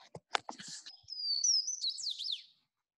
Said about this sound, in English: Swainson's warbler